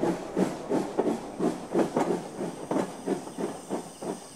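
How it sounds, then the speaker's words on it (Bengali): A steam train pulls out of a railway station as a rhythmic, evenly spaced chuff of hissing steam beats, steady and fairly close, heard without any talk. "ট্রেনটা স্টেশন থেকে বেরিয়ে চলে গেল।"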